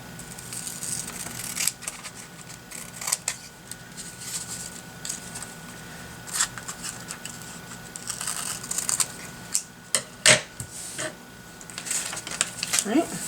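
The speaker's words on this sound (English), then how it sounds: "With some scissors, simply remove the excess" Scissors trim excess origami paper in a few short crisp snips and rustles, close and fairly quiet, with paper handling noise between cuts and a voice speaking at times.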